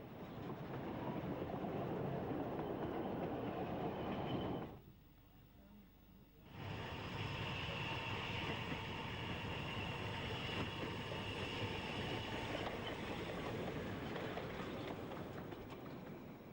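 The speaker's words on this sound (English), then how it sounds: "Note the simplex tractor at the rear of the train." A vintage narrow gauge train runs with a Simplex tractor at the rear on a mostly downhill return journey, giving a steady, fairly loud rumble and rattle that drops out briefly before resuming.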